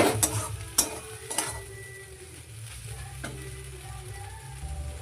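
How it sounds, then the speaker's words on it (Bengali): Veg Maggi noodles being stirred in a hot pan give off a steady sizzle, broken by a few sharp scrapes and clinks of the utensil against the pan, close and fairly quiet. "কিছুক্ষণ নাড়াচাড়া করতে হবে একসাথে।"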